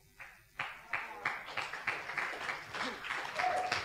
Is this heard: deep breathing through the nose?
no